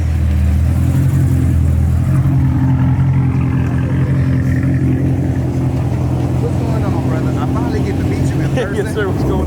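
A ProCharger-supercharged fifth-generation car engine idles and revs loudly and close, a steady low rumble with a supercharger whine above it, while people talk and cheer nearby.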